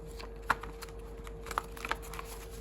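Tarot cards shuffled by hand, giving a few soft, brief riffling snaps spread over a couple of seconds. A steady low hum sits beneath them, and no one speaks.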